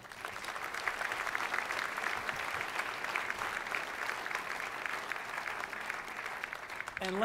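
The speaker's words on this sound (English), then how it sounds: "I think we all of us, owe him and the organization a round of applause for all they're doing." Guests at a financial services dinner break into sustained applause that stays even and fairly distant, with a brief voice at the very end.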